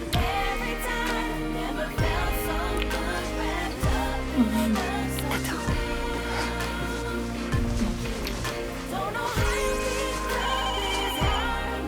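A phone ringtone plays a repeating melodic tune in a drama scene, ringing steadily and fairly loudly for around twelve seconds.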